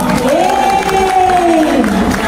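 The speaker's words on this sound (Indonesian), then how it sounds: "Tepuk tangan untuk semua." A crowd at a farmers' political rally in Central Java cheers and claps, with a loud, dense wash of noise and a sustained voice rising over it.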